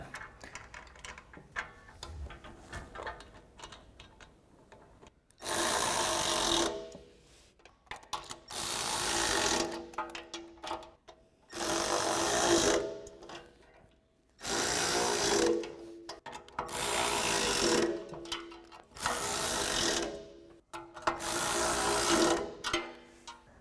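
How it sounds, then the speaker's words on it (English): Ratcheting socket wrench and Allen wrench tightening front bumper bolts on a 2021-2024 Ford Bronco, heard as seven loud bursts of rapid clicking, each a second or two long, separated by short quiet pauses. "I've got a 10mm socket, and I'm using the included Allen wrench for those bolts on the front."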